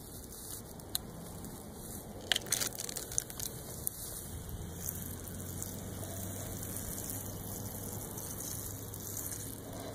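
A garden hose sprays water down into mulch, making a steady close hiss and rush of water with a few small clicks and splashes near the start.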